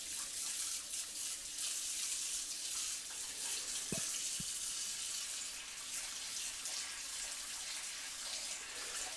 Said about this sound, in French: Je vais laver les deux parties de la carrosserie avec une eau assez chaude